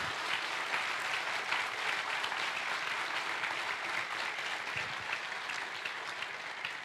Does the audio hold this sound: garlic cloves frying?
no